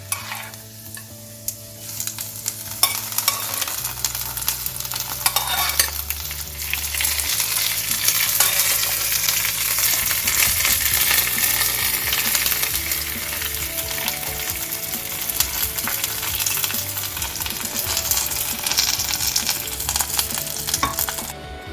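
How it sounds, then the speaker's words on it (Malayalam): Mustard seeds splutter in hot oil with curry leaves and dried chilies in a pan for an Onam pachadi, a dense, loud crackling sizzle that starts abruptly and carries on steadily, close up. "കടുക് പൊട്ടിച്ചിട്ട് വേപ്പിലയും വറ്റൽമുളകും ഇട്ട് കൊടുക്കാം"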